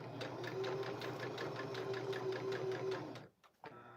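A sewing machine stitches an appliqué in one fast, even, continuous rhythmic run, close and steady for about three seconds before stopping abruptly.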